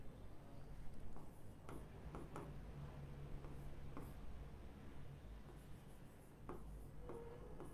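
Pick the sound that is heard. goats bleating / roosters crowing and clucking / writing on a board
writing on a board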